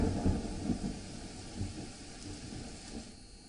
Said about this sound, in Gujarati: મોરગરમાં ભારે પવન સાથે વરસાદી ઝાપટા પડ્યા છે।